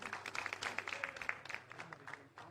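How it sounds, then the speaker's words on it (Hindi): Applause from an audience at an award event in Lahore, a Pakistani police film director being honoured, moderately loud with clustered claps and some crowd noise. "एक मरतबा फिर बहुत सारी तालियां"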